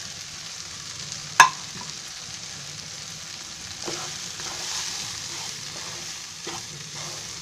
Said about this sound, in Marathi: आता त्याच्यामध्ये रवा टाकायचा होता.